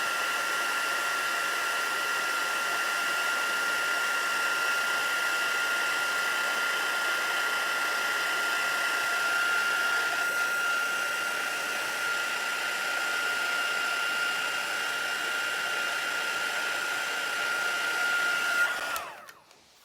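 A heat gun blows steadily on embossing powder spread over a card background, a continuous whooshing blower with a constant whine, loud and close. It runs alone for nearly twenty seconds, then cuts off abruptly at the end.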